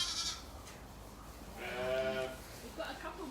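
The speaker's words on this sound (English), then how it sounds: "And here are lambs number 1 and 6." Lambs on a farm bleat in a short, wavering call near the middle, with a fainter second bleat toward the end over quiet background noise.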